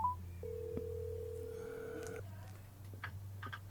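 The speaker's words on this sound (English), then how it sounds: "So I'm gonna call up my nephew and let's see if it works." Phone-call tones play through a Soundcore Rave PartyCast speaker: a short beep, then one long steady tone, over a constant low hum, with faint clicks and ticks afterward, clear and moderately loud.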